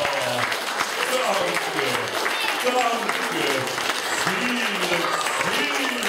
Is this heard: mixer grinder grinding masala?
no